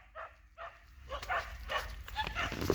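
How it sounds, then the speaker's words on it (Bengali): Several dogs roam a jungle hunting goats, sending out a series of barks and yips at uneven intervals, moderately distant at first and growing busier and louder toward the end. "এই যে কুত্তাগুলো দেখুন কীভাবে ঘুরে বেড়াচ্ছে জঙ্গলে ছাগল ধরার জন্য"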